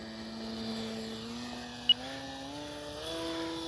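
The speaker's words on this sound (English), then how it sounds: "The HobbyZone CUB is a STOL plane" A HobbyZone Super Cub RC airplane flies overhead, its electric motor giving a steady, thin buzzing whine that slowly climbs in pitch, with one sharp click partway through.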